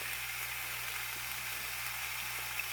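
Oil sizzles in a pan with onions, a soft, even frying hiss that continues steadily and faintly throughout, with no voices over it.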